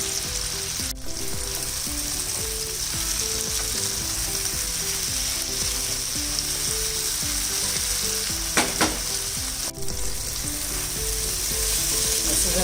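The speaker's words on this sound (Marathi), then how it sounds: "त्यात आपण हे मॅरिनेट केलेलं सगळं घालूया. आणि हे चांगलं असं फ्राय करून घ्यायचं." Marinated paneer tikka fries in oil in a pan, a loud, steady sizzle throughout with faint stirring and scraping, no voices.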